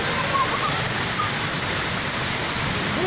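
Floodwater rushing across a flooded road in Rigasa, Abuja, past culverts already full, a steady loud broadband roar of flowing water throughout with no break.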